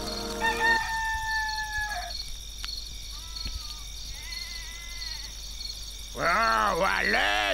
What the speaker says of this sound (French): Ce coq me réveille tous les matins à l'aube.